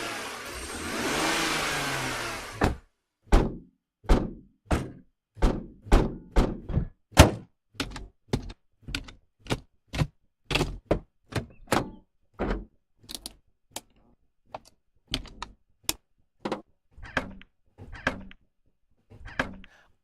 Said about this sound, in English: that's the sound if you put down the seats